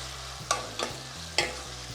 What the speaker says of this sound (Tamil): இதை நல்லா ஃப்ரை ஆகட்டும் ஒரு 5 நிமிஷம்